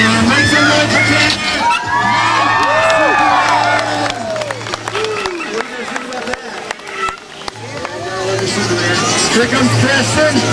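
A large crowd cheers, yells and applauds for BMX stunt rider Tanner at an outdoor stunt show in Bentonville, Arkansas. The roar is loud and sustained, with a steady low hum beneath it and mixed voices throughout.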